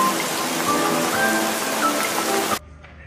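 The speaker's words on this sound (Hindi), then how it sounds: "बारिश हो गई भाई काफी तेज।" Heavy rain pours in a dense, loud, steady hiss for about two and a half seconds, then cuts off abruptly to a quieter background.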